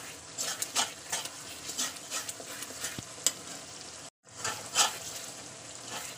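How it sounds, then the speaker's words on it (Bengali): Ground turmeric, chilli and garam masala sautéing in a pan for a Bengali potato curry: rhythmic spatula scrapes and stirring over a low sizzle, close and moderately loud, briefly dropping out near the end. "এবার আমি কিছুক্ষণ কষিয়ে নেব জিনিসটাকে।"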